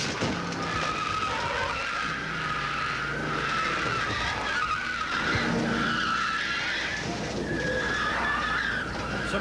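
Onboard a race car crashing at Talladega during a 1993 IROC race, tires skid and squeal continuously while the car scrapes and grinds, loud and close throughout.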